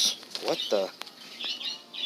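Caged birds in a pet store let out short, high squawks and chirps, the sharpest cries coming near the end, with a man's brief exclamation early on.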